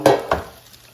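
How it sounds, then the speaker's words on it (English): Potatoes are shaken in an air fryer basket: two quick rattling tumbles in close succession, with faint sizzling after them. "let's take out the air fryer basket and let's shake these potatoes so they cook more evenly"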